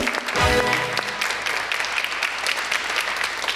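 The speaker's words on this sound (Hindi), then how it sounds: "भाई तालियां।" Studio audience applauding on a Pakistani TV talk show, a dense burst of clapping that swells in with a low boom at the start, then holds steady and fairly loud to the end.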